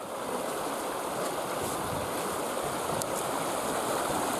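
Loud, steady rush of fast-flowing spring water through a channel cut between two lakes in Bazhenovo, Omsk Oblast, Russia, a continuous broadband roar with no voices, close by.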